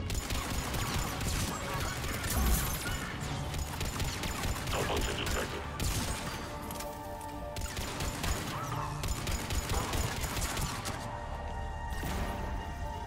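Gunfire in Mass Effect 3 as Cerberus troops are shot on Omega, with repeated shots, impacts and crashes layered over continuous game noise and music throughout.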